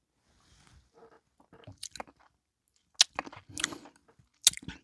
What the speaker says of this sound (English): You can see that I'm chewing a little bit, or a lot of it.